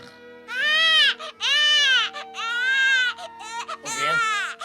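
A cartoon baby Smurf cries in a string of high, wailing sobs, close and loud, broken by short catches of breath.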